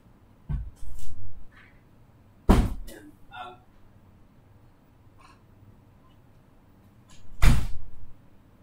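An entrance door opens and closes as someone leaves a room, giving a few distinct thuds and clunks spaced over several seconds in a quiet indoor space.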